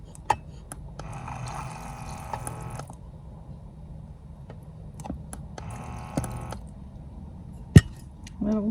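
Water pours in two short bursts inside a camper van, each a few seconds of splashing fill with a faint background hum and a couple of sharp knocks.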